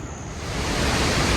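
Waterfall Falls, a waterfall in Australia seen from below, gives a loud, steady broadband rush of falling water that swells slightly over a second and a half, with no talk.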